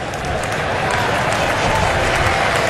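Cricket crowd at a New Zealand versus England test match, loud sustained applause and cheering from a large stadium audience, a dense roar of clapping that holds steady and swells slightly toward the end.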